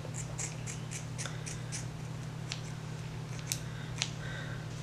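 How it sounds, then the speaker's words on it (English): Regular kitchen scissors snip through curly hair on a wig, a quick run of crisp close cuts early on followed by a few scattered snips over a steady low electrical hum. "these are literally like just regular kitchen scissors"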